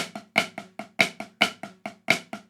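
Crisp snare strokes in a quick, steady pattern, grace-note flams leading into accented hits, played close and alone.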